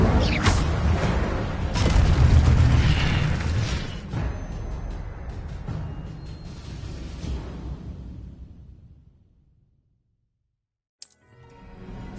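A fire spell cast in Hogwarts Legacy erupts as a loud whooshing burst that roars for several seconds and then slowly fades to silence. A brief sharp pop follows near the end.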